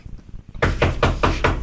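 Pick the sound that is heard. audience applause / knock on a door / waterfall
knock on a door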